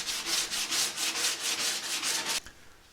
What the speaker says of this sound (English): Down to some primitive hand sanding there.